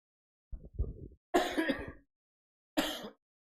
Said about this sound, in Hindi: थोड़ी तबीयत खराब होने की वजह से प्रॉब्लम चल रही है बेटा, क्या करें, खांसी आ रही है